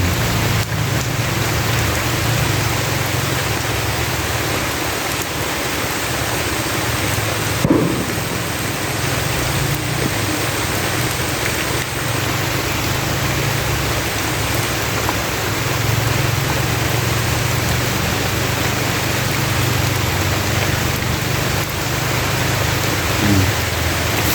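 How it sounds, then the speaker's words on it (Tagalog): Steady, dense rain pours down in the countryside, a continuous close hiss lasting throughout, broken only by a couple of faint soft thumps. "Ganda na naulan."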